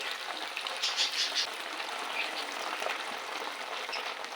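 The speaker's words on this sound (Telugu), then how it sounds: "ఆయిల్లో వేసేసుకున్నాను కదా కొంచెం ఫ్రై అయ్యే వరకు గరిటె పెట్టి అసలు తిప్పొద్దండి" Anchovies frying in hot oil in a pan, a steady soft crackling sizzle with brief brighter bursts of spitting oil, fairly close and alone without talk.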